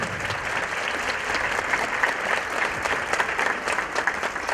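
Audience applause at a Mexican Red Cross ambulance handover ceremony in Hidalgo, steady sustained clapping from a crowd heard from a moderate distance, even and unbroken for several seconds.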